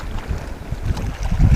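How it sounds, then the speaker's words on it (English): Strong wind buffets a small boat as it sets off from shore, with gusty microphone roar and low rumbling swells that build toward the end. "This wind is pretty bad."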